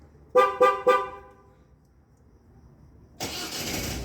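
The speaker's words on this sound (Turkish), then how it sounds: "Yani az öncekinden yaklaşık 3 saniye kadar daha önce Tabii, marş yapmış oldu." A 2012 Ford C-Max gives three short horn-like chirps, then after a pause its engine cranks and starts into a loud, steady idle close by.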